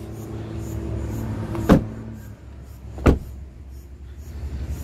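The power tailgate of an Audi Q5 Ambition SUV closes with a low motor hum, then two sharp thuds about a second and a half apart, heard close and without talk.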